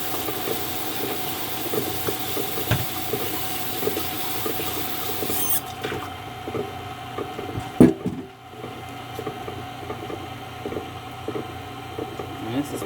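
An electric mixer runs on a low stir setting while blending boxed cake batter for a pineapple upside down cake, a steady, moderate whir with scraping and clatter, partway cutting to a quieter hum, a voice speaking over it.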